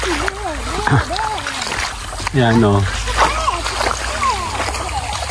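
People splash while bathing in the Palsawan River in Pagbilao, Quezon, with loud close sloshes and splatters over an outdoor water background as voices talk and call out throughout.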